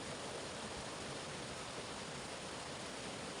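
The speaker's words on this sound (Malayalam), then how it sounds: "ഇവിടെ ഈ വെള്ളത്തിൻ്റെ ശബ്ദമല്ലാതെ യാതൊന്നും കേൾക്കുവാനില്ല." Forest stream water near Chilanthiyar waterfall rushes in a steady, even wash of broadband noise. It is soft and continuous, with no voices.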